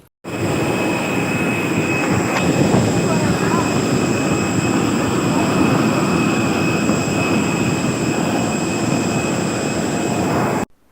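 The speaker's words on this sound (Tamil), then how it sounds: "இப்போ பார்த்தீங்களே, அதுதான் ஃப்ளைட்டோட இன்ஜின். ரொம்ப சத்தம் அதிகமாக இருந்ததில்ல." A loud, steady airplane jet engine roar drones on without pause for about ten seconds, with a constant high whine over it, heard from a passenger seat.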